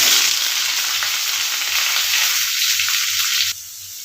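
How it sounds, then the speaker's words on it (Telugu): Onion and green chili pieces sizzle in hot oil with mustard seeds, a loud bright steady fry with a soft rhythmic stirring thump underneath, dropping in intensity near the end. "ఉల్లిపాయ ముక్కలు వేసేసుకుందాం."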